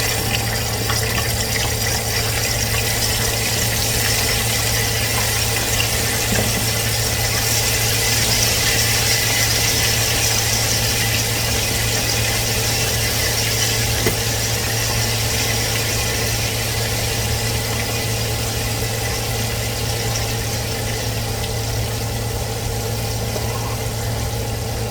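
French fries frying in hot oil in a home kitchen give a steady, loud, close sizzle and crackle that runs unbroken over a low hum, with no one speaking.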